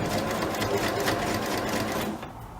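A sewing machine runs in a fast, steady whir as it stitches an upcycled old t-shirt, close and continuous before easing off at the very end.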